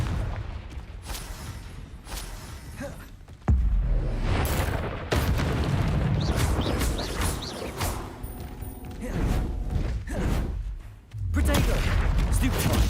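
Confringo blasting spells explode during combat in the Hogwarts Legacy video game, with several loud booming bursts that strike suddenly and roll off amid continuous battle noise, while a voice talks over them.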